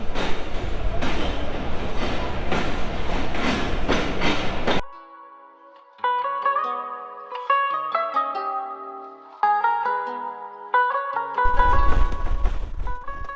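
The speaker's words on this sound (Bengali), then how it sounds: "ঠিক ছয়টা বিশে আমাদের ট্রেন ছেড়ে দিল এখন আমরা রাজশাহী স্টেশন পার হয়ে চলে যাচ্ছি" A passenger train pulls out of Rajshahi station in Bangladesh with a loud, close rumbling clatter, broken in the middle by a stretch of music before the train noise returns.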